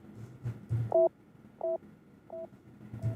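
Percussion hits shaped by a band pass EQ, MetaPitch and analog delay, giving four short tonal, beep-like pings in an even rhythm over soft low thumps and a quiet bed.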